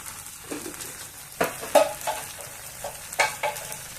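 Spoon stirring chilli powder and garam masala into potato curry frying in a pan, with a steady low sizzle and irregular scraping strokes and clacks against the pan, close and fairly loud.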